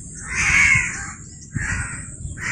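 Crows cawing among trees beside a tall cotton field in a village, three harsh calls in steady succession with no talk over them.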